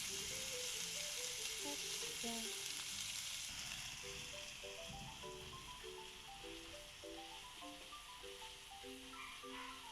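Garlic fries quietly in a pan for a corned beef omelette, a soft continuous sizzle that runs beneath a light musical melody, with no voices.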